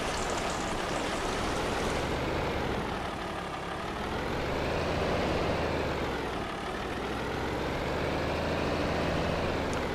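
A tractor in Farming Simulator 25 drives through a stream crossing on a Louisiana farm, its engine droning steadily and rising and falling in pitch under a constant rush of water, fairly close and loud throughout.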